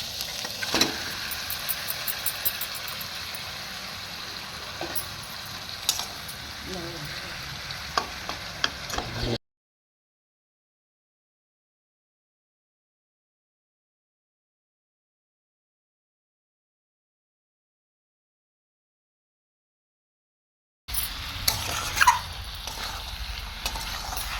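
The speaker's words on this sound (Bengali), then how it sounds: "এবার আমি এই মাংস ভাজাগুলো সব এর মধ্যে ঢেলে দিচ্ছি।" Fried chicken pieces stirred into a sizzling spice masala in a pan, a steady close crackle with scraping stirs that cuts off for a long silent stretch and then resumes.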